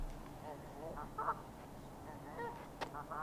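Geese honk and squawk on a golf course at a Las Vegas disc golf event, with several short, faint honks scattered through a few seconds under low crowd and ambient noise.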